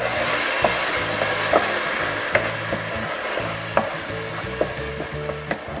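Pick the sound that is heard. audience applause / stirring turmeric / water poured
stirring turmeric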